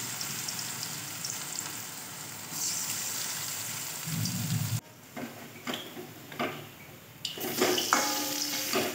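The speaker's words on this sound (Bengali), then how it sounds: "বেশ চেপে চেপে মুচমুচে করে ভাজবো, হালকা আঁচে" Cabbage pakoras sizzling in hot oil over low heat, a dense crackling fry that shifts in tone partway through as fritters are pressed and moved, close and steady with no talk.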